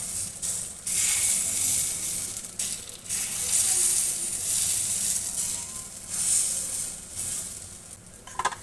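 Chitoi pitha batter sizzles hard in a pan over a high gas flame, a loud steady hiss that surges in waves with brief dips and a few faint clinks near the end.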